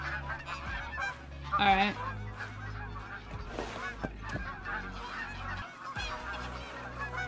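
A diamond goose honks in theHunter: Call of the Wild on the Yukon map, a few nasal calls over outdoor ambience and the player's low movement sounds, with a brief spoken word.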